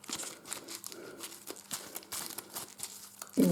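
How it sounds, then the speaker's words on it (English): Shuffling treasure cards from a board game: quick crinkly riffles and soft slaps of card stock, close and fairly quiet, ending with a sharper knock. "give them a good shuffle."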